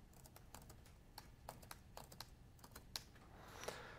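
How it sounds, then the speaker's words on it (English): Quiet, irregular clicking of keys being typed on a computer keyboard, several seconds of soft taps at close range with no talk. "I click edit. I start typing."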